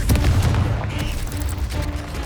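The Confringo fire spell from the video game Hogwarts Legacy goes off as a loud, dense booming burst with crackling impacts, rumbling continuously for a couple of seconds, close and with no talking.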